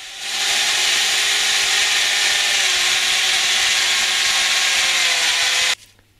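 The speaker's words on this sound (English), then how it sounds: "and drill holes in it for the joining screws." A power drill bores a hole through a wooden crossbeam for joining screws, a steady high whirring grind that starts abruptly, holds evenly for about five seconds up close, then stops sharply.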